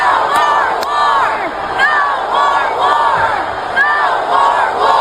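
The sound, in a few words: crowd cheering and chanting at a political rally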